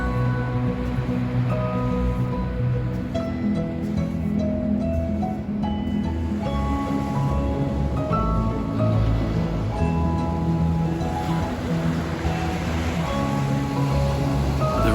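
Ocean surf washes steadily onto the shore at Ucluelet, a continuous loud rushing roar that swells and settles without any break.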